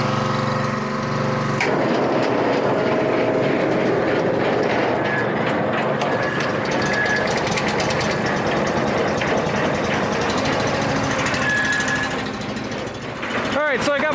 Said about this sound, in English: the conveyor is running at low idle